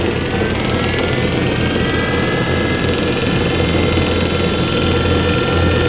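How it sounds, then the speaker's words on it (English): A 95-year-old Kwik-Way grinder runs with its grinding wheel spinning, a loud, constant motor whine and steady mechanical drone with no pauses, close by and alone. "get our grinding wheel going"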